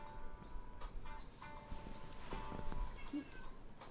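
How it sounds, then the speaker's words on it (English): A house cat meows a few times at close range, short tonal calls over a room-noise background, with light movement sounds around it. "Cat alert. Hey, kitty."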